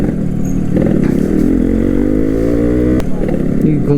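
A Yamaha RX motorcycle runs steadily while being ridden on a potholed road, its loud engine firing droning close up with a rider talking over it.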